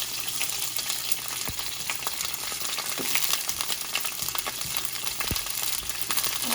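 Asparagus spears sizzle gently in a frying pan, a quiet continuous hiss with occasional small pops and taps close by.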